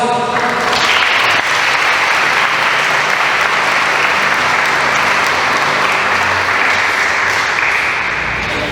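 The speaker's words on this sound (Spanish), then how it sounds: "Un fuerte aplauso." Wedding guests at a church ceremony break into loud, sustained applause that rises quickly and holds steady for several seconds before easing slightly, with no talking over it.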